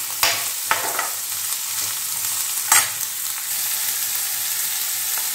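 Capsicum frying in a pan for fried rice, a continuous sizzle broken by a few sharp spatula knocks and scraping stirs, close and fairly loud with no talking.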